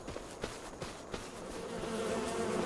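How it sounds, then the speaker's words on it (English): Bees buzz steadily near a hay meadow on a small farm, a continuous insect drone under faint ticks and taps, with no one speaking. "Hi, bees."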